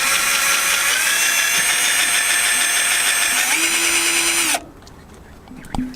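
A power drill cuts a hole through the metal roof of a van for a MaxxAir fan install, loud and close with a steady, high whine that shifts pitch briefly, then stops abruptly, leaving quiet outdoor ambience and a small knock.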